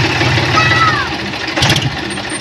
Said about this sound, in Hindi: स्टार्टिंग आपने ट्रैक्टर की सुन ली